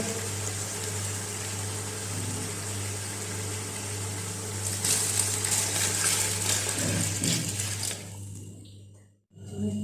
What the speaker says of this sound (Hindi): अभी हम इसमें 2 लीटर पानी ऐड करेंगे।